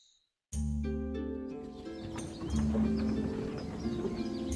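Hooves gallop at a steady clip over layered music from the video game Stories: The Path of Destinies, with a brief whinny-like tone and bright chimes mixed in.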